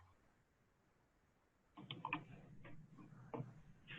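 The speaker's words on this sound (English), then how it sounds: "Yes, I was typing." Light, quiet keystrokes on a computer keyboard come in a loose patter of irregular taps after a near-silent opening, close to the microphone.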